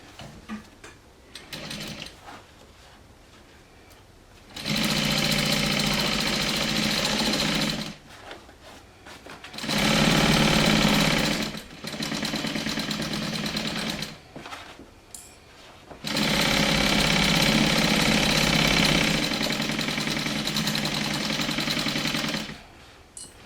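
A sewing machine stitches a 1/4-inch seam on a messenger bag in several long, loud runs of rapid, even whirring, separated by short pauses with quieter handling noise.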